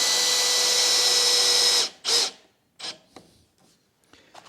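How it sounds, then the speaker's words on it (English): Small stainless steel screws being driven into wooden planks, with a long, steady power-driver whir for about two seconds, then several short, separate bursts and faint clicks, close and alone with no talking. "I will start to put the screws in"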